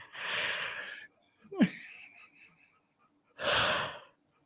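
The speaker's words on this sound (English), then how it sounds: "Hold on, I have to yawn." A person yawns with long breathy inhales and exhales, a few seconds apart, close up and alone.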